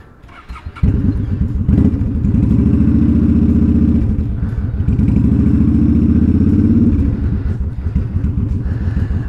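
A Honda Shadow motorcycle engine in cold weather starts up and settles into a loud, close, steady idle with a fast, even thumping rhythm that lasts most of the stretch, plus a brief dip midway.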